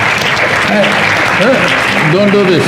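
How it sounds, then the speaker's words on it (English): Audience clapping at a motivational talk, a dense, steady patter of applause with a voice speaking over it. "You're clapping at my failures."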